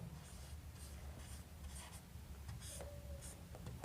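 Quiet scratchy strokes of writing on paper during a trigonometry lesson, faint and close, with short pauses between strokes.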